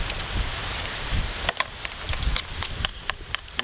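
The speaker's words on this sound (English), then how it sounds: "Oh man, here comes the real rain." Rain falls steadily outdoors in Algonquin Park, a dense hiss at first, then sharper individual drops tapping nearby surfaces at a campsite. No one speaks.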